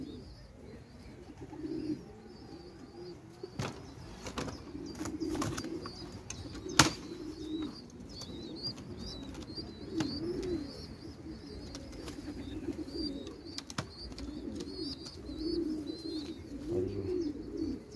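Pigeons coo in low, soft repeated calls, with a few sharp knocks and light bird chirps nearby.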